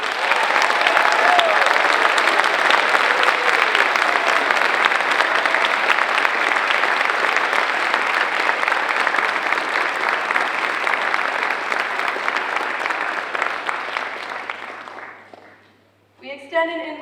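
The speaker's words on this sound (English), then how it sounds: "please join me in congratulating the new members of the National Honor Society with a round of applause" Steady, sustained applause from a school audience welcoming new National Honor Society inductees at Oliver Ames High School, dense and even for about fifteen seconds before fading out, with faint chatter and clapping resuming briefly at the end.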